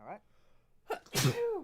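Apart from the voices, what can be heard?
sneeze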